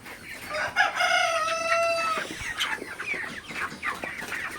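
Broiler chickens in a poultry house during cold weather: a loud crow rings out near the start, followed by scattered clucks and rustling from the flock.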